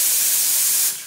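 Steam wand on a coffee machine being purged, a loud, steady high-pitched hiss of spraying steam that runs for about a second, then drops off abruptly near the end.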